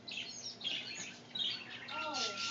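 Pet cockatiels squawking and chirping up close, with shrill bursts and a rising, warbling call near the end, mixed with a voice speaking to them.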